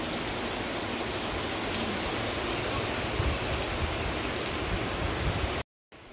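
Heavy rain pours down in a dense, continuous hiss close by, cutting out abruptly just before the end.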